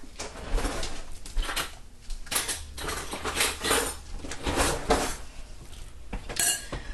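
A spoon clatters against dishes while a plate of vegetables is served, with repeated close, fairly loud clinks and scrapes in an irregular rhythm and no talk.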